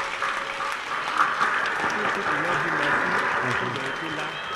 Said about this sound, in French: Un tonnerre d'applaudissements pour monsieur le fondateur des établissements Bethléem.